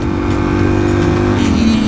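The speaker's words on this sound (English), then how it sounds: "be really careful with the Yoshimura exhaust on her. Like, she's really loud" A 2018 Suzuki DRZ 400 SM motorcycle with a loud Yoshimura exhaust, a steady, throaty single-cylinder engine drone that holds close and loud with only a slight pitch shift near the end.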